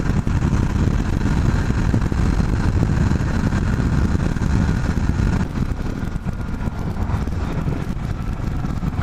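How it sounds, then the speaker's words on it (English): A Honda Shadow 1100 motorcycle runs wide open on an Arizona highway, with a loud, constant low engine drone mixed with heavy wind roar and no break in the sound. "Give this bike a rest because I've been running it wide open for 97 miles now"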